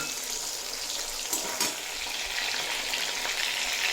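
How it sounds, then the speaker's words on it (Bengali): Ground spice paste frying with tomatoes in a pan, a dense continuous sizzle with a faint stir or scrape midway, close and steady with no voices. "টমেটো অল্প নাড়াচাড়া করে নিয়েছি এবার দিয়ে দেব বেটে রাখা মশলা"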